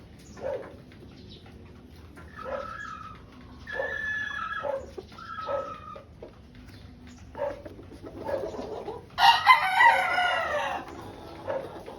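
A pure white Kelso brood stag rooster crows several times close by, each crow a harsh rising and falling call, the final one loudest, with quiet gaps between them.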